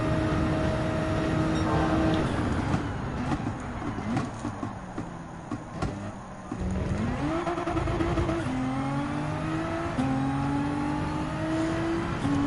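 A Gran Turismo 7 race car engine at the Red Bull Ring screams through repeated gear changes, pitch climbing and dropping with each shift, over-revving slightly before each change, loud and close with no voices.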